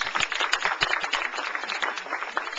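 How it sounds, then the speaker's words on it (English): An office gathering's audience breaks into steady applause, many hands clapping densely and evenly with no one speaking. "I would like everybody to give a round of applause to Tom and Mike"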